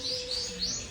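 Pet budgies and canaries chirping, a few quick high tweets repeating close by over a soft background hum.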